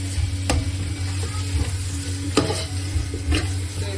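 Chili-powder marinated prawns sizzle steadily in a pan while a spoon stirs and scrapes, with a few sharp clinks against the metal, close and continuous with no voices.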